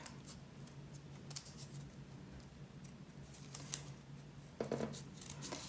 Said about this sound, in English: Then you're gonna get a pair of scissors and cut it out.